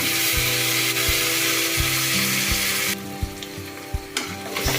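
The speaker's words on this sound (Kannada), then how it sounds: "ಈಗ ಸ್ವಲ್ಪ ಪುದೀನ ಸೊಪ್ಪು, ಸ್ವಲ್ಪ ಕೊತ್ತಂಬರಿ ಸೊಪ್ಪು ಸಣ್ಣಕ್ಕೆ ಹಚ್ಚಿರೋದು, ಇದನ್ನು ಚೆನ್ನಾಗಿ ಹುರ್ಕೊಳ್ಳಿ." Finely chopped mint and coriander leaves frying in a pan for tomato bath, a loud, bright sizzle that drops sharply partway through, with regular spatula knocks against the pan, close and alone.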